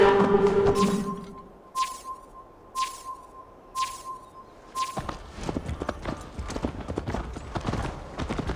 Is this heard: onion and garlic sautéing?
no